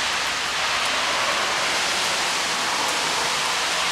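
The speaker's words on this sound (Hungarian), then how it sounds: "Szakadó eső." Pouring rain falls in a steady, dense wash of hiss that stays even and unbroken throughout, with no voices.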